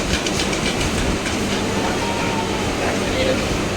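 A hired private passenger train running on rails, a loud steady rumble from inside the carriage with rhythmic clickety-clack of the wheels throughout.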